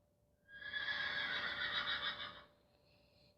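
A horse in the video game Minecraft gives one loud, bright neigh lasting about two seconds, close and alone against a faint steady hum.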